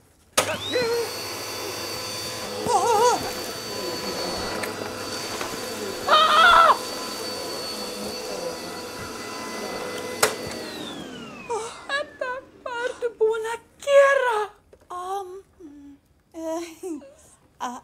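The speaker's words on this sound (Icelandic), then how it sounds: "Edda, ekki fara að ryksuga líka" A household vacuum cleaner runs loud and steady for about ten seconds with a high whine, then winds down and stops, followed by people talking close by.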